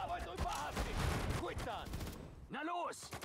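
Infantry gunfire in the Sudden Strike 4 battle game crackles as scattered rifle shots with a dense rattle early on, mixed with shouted voice lines and whistling sweeps.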